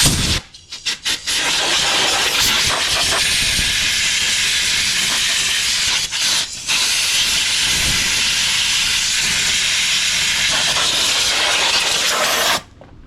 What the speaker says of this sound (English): I like to just take an air gun and blow it through the alternator